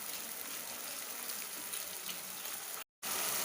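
Masala sizzles steadily in ghee for a chicken ghee roast, a dense close crackle with no talk that holds throughout, then stops for a brief moment of silence before resuming.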